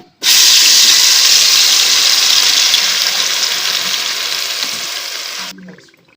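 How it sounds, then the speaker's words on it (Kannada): Ground masala paste hits hot oil with a sudden, loud burst of sizzling hiss. The hiss slowly fades over several seconds, then drops off abruptly. "ಒಂದು ಪಾತ್ರೆಗೆ ಆಯಿಲ್ ಹಾಕೊಂಡಿದ್ದೀನಿ ಇದಕ್ಕೆ ಆಗಲೇ ಮಿಕ್ಸರ್ ಮಾಡಿದಂತಹ ಮಸಾಲೆ ಹಾಕೊಳ್ತಾ ಇದ್ದೀನಿ"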